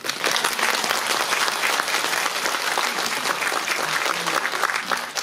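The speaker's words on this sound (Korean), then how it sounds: "큰 박수 좀 부탁드립니다" A large audience at a Pocheon community education gathering claps steadily and loudly for a center director being introduced, a dense, even roar of hands that fills the room for several seconds without letting up.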